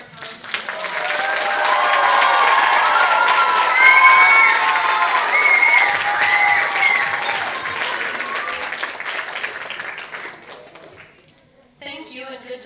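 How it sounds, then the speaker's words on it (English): Loud applause and cheering from the crowd for performers at the Peel Spoken Word Festival, with sustained clapping, whoops and shouting voices swelling early and then tapering off before a brief final burst. "can we please have one more round of applause for all of our talented people?"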